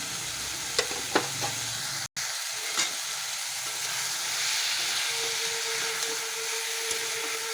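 Chopped spring onions and salt sautéing in a hot pan, a continuous close sizzle with a few sharp clicks and stirring knocks early on, running alone without talk.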